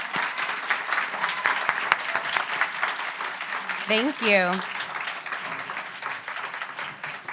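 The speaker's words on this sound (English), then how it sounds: "Could we just give a round of applause to this wonderful panel?" An audience applauds a panel at a patient-advocacy event, steady clapping running the whole stretch at moderate loudness, with a voice briefly speaking over it midway.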